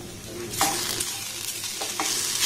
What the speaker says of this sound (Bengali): সমস্ত উপকরণ দেখুন একটু ভালোভাবে নাড়াচাড়া করে আমি ঢাকা দিয়ে ভেজে নেব